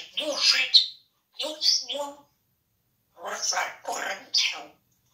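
A pet parrot gives two bursts of harsh squawks and chirps, then after a pause a run of three more close, loud calls, with silence between the outbursts.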